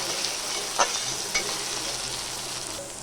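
Crushed garlic paste sizzles in hot oil in a pan while a cook stirs it, a steady close frying hiss broken by two sharp scraping clicks of the spoon.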